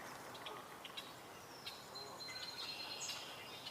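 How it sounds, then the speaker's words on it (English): A song sparrow sings outdoors on a mid-April bird walk, its thin, bright phrases rising faintly over a quiet background hiss, with a few brief chirps scattered before the longer trilling run near the end. "Just heard a song sparrow."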